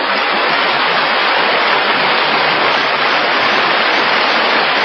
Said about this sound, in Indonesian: Air terjun Sigura-gura yang telah berkurang airnya.